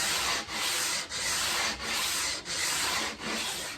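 Sandpaper rubbing back and forth across a wooden guitar fretboard being smoothed toward 220 grit, a steady close scratchy hiss in five even strokes with brief dips between them.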